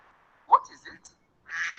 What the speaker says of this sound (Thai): Yes, Duck. it's a duck.